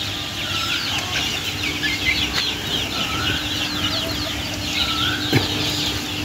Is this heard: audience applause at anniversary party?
no